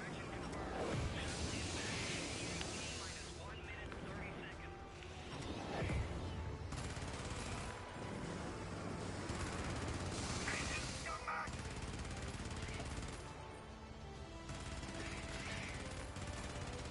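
Sentry turrets in the video game Helldivers fire in rapid rattling bursts, a dense mechanical chatter that repeats with brief pauses, faint voices talking underneath.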